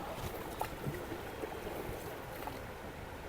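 Steady low rumble of a boat moving across floodwater through a flooded village, with soft splashing and wash continuing throughout, no voices.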